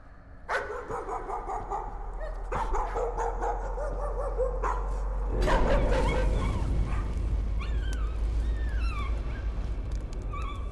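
A dog barks, yips and whimpers in the Layers of Fear horror video game, a few sharp calls over a steady low ambient drone, with no talking.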